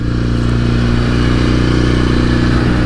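A 1968 Norton Commando 750 motorcycle engine held at a steady, even throttle while being run in on a ride, a loud, close, continuous drone with a smooth pulsing beat.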